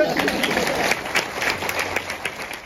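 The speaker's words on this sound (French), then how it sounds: "Vous pouvez vous applaudir" An audience applauding at a talk on emotional care, a dense spread of clapping hands that fills the room at moderate volume, with voices mixed in.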